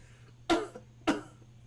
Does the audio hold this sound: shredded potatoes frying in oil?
no